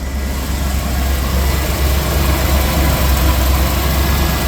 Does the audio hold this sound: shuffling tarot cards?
no